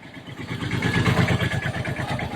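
A walking tractor's engine chugs in a steady, rapid rhythm on a trip into the forest, loud and close, its rattling beat continuing evenly with no talking.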